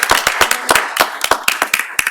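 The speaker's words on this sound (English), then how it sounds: "big round of applause." Applause for a panelist at an academic law panel, a small audience clapping loudly and close by, with distinct sharp claps in an uneven rhythm over about two seconds.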